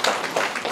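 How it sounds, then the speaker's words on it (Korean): Audience at a Geumsan county meeting breaks into brief applause, a dense burst of many hands clapping together for under a second, fairly loud and close. "박수 한번 쳐주세요."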